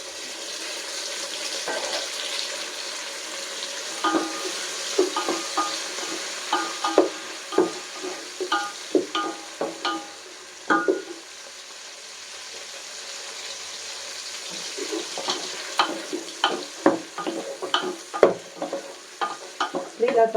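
Tomatoes frying for a prawn biryani are stirred around a pan, a steady sizzle under repeated scraping and clattering strokes of the spoon, close and fairly loud, with a brief watery pause midway and no talking.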